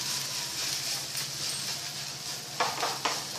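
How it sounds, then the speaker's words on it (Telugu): Grated carrots for carrot halwa fry in a pan with a soft, steady sizzling hiss, close by, broken near the end by a couple of sharp stirring scrapes against the pan, no talk. "ఇది బాగా ఇప్పుడు ఫ్రై అయిపోయింది చూసారు కదా"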